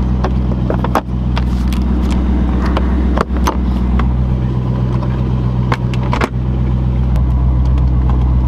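Corvette engine idling steadily just after a cold start following a week unused, a loud close rumble broken by a few sharp clicks and knocks.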